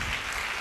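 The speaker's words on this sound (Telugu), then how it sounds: "గట్టిగా చప్పట్లు కొట్టాలి" A church congregation claps loudly in a short burst of dense, even applause.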